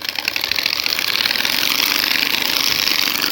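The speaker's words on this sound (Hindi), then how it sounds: "तो गाइस इसकी मैं आपको साउंड सुनवा देता हूँ एक बार।" A motorcycle fitted with an aftermarket exhaust runs close by, a steady rough mechanical drone with a fast pulsing rasp and no voices.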